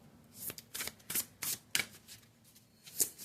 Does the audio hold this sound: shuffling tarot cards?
yes